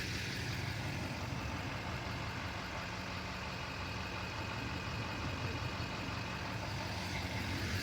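A truck engine idles steadily with a deep, constant rumble, loud and close, with no talking.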